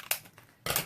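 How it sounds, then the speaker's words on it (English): Scissors snip through a cardboard tube in two quick, close cuts, crisp and fairly loud in a quiet room. "You can cut off the extra bit"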